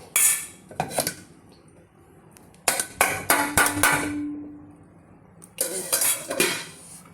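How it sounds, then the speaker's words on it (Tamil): Lid lifted off a pot of homemade biryani and turned over: a few close metallic clanks and scrapes of metal on metal in separate bursts, with quiet gaps between. "மூடி எடுத்து பார்ப்போம். மூடி வந்து திருப்பி வச்சிடலாம்."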